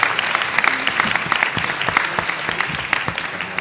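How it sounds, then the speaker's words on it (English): Board of Education meeting audience applauds third graders and fourth graders, a close, steady round of clapping with distinct individual claps, continuing evenly for several seconds. "Let's give another big round of applause for our third graders from HES and our fourth graders from Woodford."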